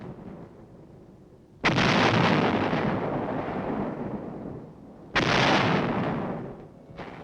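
Heavy artillery and gunfire from fighting around a city perimeter during the 1952 Korean War evacuation: two loud, booming bursts, each swelling suddenly and rolling on for several seconds, with a third starting at the end.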